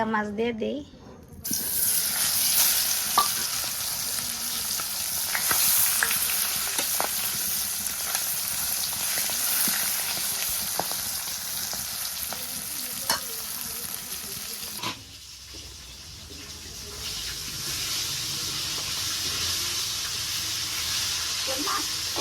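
Fish fries in hot oil with a steady, loud hissing sizzle that runs on without pause, dips briefly and then continues, with occasional clinks of a utensil and voices talking over it.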